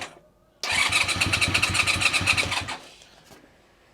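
Restored Honda VFR400 NC30 motorcycle, its carburettors out for a long time, being started: a sudden loud, rapid, pulsing starter-and-engine churn lasting about two seconds, then fading away into quiet.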